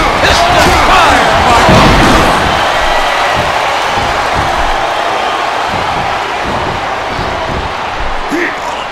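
A body slam from a Russian leg sweep in a WWE wrestling video game, with heavy thuds and impacts over a loud, steady arena crowd roar throughout.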